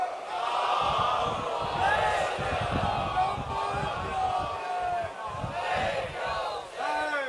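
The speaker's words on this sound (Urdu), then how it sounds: "بلند صلوات" Massed voices at a Muharram majlis loudly chant salawat together, a dense continuous roar of the gathered crowd in unison.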